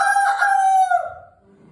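A rooster crowing once, loud and close, a single drawn-out call that tapers off at the end.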